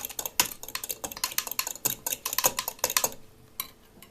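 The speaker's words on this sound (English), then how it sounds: "So the sugar will melt and will transform and will mix, and I guess I can give some good stirring, mixing" Sugar melting in a pot is stirred with a utensil, giving quick repeated scraping clinks against the metal, close and steady in rhythm, fading toward the end.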